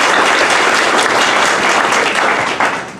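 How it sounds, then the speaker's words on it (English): An audience gives a sustained round of applause for event staff at a personalization unveiling, dense steady clapping for the full three seconds with no talking over it. "So let's give them a round of applause for all their work."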